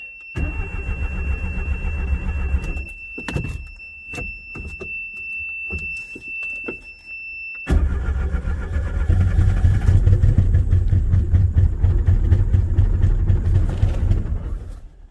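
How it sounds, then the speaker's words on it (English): An old Datsun or Geo Metro engine, running on poured-in gas with no fuel pump, cranks in loud uneven bursts with pauses, then catches and settles into a steady rough idle close by. "now it's time to put the clutch in, turn her over, and see what happens"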